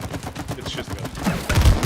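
Gunfire from the video game It Takes Two: dense bursts of rapid shots over about two seconds, growing louder and heavier toward the end, with game sounds underneath.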